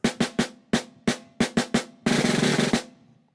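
A snare drum plays a handful of separate sharp strokes, then breaks into a short continuous buzz roll of rapid bouncing strokes before stopping.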